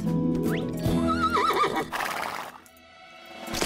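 A cartoon horse whinnies loudly and close up, a shrill rising and falling neigh followed by a few clip-clop hoofbeats, with no talking over it.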